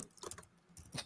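Quick soft key taps on a computer keyboard, a brief irregular patter of clicks, faint and close, with no voices.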